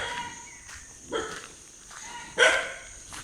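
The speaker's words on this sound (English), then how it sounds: "The dogs." Dogs bark outdoors in a leafy rural village setting near Bolangir, two or three separate barks spaced a second or so apart at moderate distance, with faint footsteps and background ambience between them.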